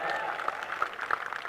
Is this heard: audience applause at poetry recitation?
yes